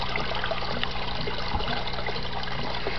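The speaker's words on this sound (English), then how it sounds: "every time we start this siphon, it pulls water from this tank to this tank, and we're exchanging water" Water siphons between tanks on a desktop aquaponics setup, a steady, close trickle and gurgle that flows continuously without pause or voices.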